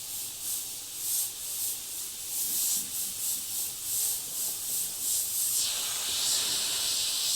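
Airbrush spraying paint in short soft bursts for a freehand eye painting, a steady airy hiss pulsing on and off, close and fairly quiet, with no talking.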